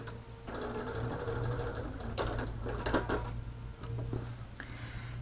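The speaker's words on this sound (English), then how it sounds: "I'm going to back stitch" A sewing machine back stitches a seam on a combo cushion for holding clips and pins, a close, steady motor whir with brief stops and restarts marked by small clicks.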